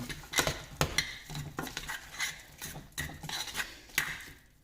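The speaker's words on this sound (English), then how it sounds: "so I'm going to mix this up then" A spoon scrapes and knocks around a pot of oats cooked with apple and maple syrup on low heat, giving a string of close, rhythmic stirring clatters.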